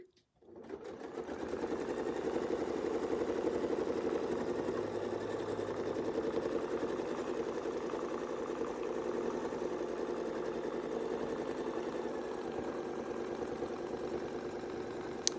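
A sewing machine runs steadily stitching a wreath design, a continuous close mechanical whir holding an even rhythm for the whole stretch without pause.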